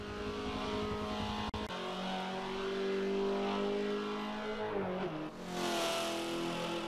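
Mazda car engine held high toward a raised 7,000 RPM redline on a racing video game lap, droning steadily at high revs with pitch sweeps as gears shift and the car slows near the end.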